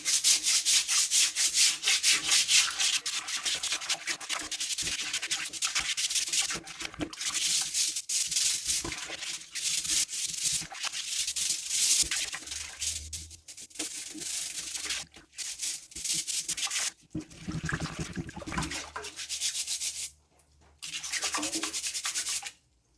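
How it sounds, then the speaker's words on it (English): Burdock roots are scrubbed at a sink to loosen the dirt, a steady close, dry brushing and rubbing sound that runs almost without pause, broken only by a couple of brief stops near the end. "I'm just scrubbing them once, just to get some of the dirt off."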